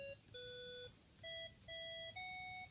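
A Pentaphone electronic keyboard plays chords in its 8-bit video-game tone: five bright, buzzy, square-ish tones separated by short gaps, each one held under a second, clean and alone.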